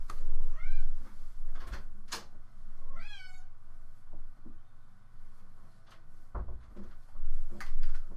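A cat meows repeatedly in the Minecraft video game, with several rising, whiny calls spread across the clip over a low background hum and a few soft knocks.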